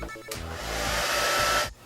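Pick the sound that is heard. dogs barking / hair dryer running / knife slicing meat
hair dryer running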